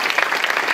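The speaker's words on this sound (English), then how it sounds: "Let's give him a round of applause." Audience applause at a Heavenly Vision Christian Center event, a dense, steady burst of clapping from a large crowd filling the short moment without any talk.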